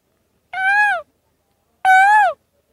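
A person imitates an Asian koel's call twice, two rising, whistled vocal notes separated by a short silence, clear and close.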